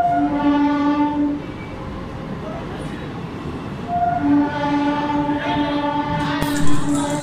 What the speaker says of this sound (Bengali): দেখতে পাচ্ছেন আমার পিছনে যে ট্রেন আইছে